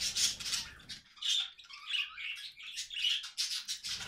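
A male budgerigar kept as a pet chatters at night in a rapid run of close, loud chirps and squawky warbles, with short bursts following one another continuously.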